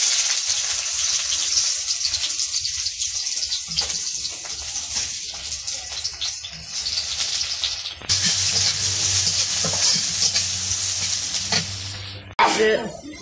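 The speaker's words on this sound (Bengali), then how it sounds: "পেঁয়াজ কাঁচামরিচ ভাজার পরে হলুদ মরিচ দিয়ে দিচ্ছে" Onions and green chilies fry in hot oil in a wok for a village-style prawn and Malabar spinach dish, giving a loud, steady sizzle throughout with stirring clatter and a brief pause near the end.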